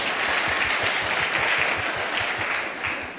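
A small crowd breaks into brief, steady applause, dense clapping at an even level with no voices over it.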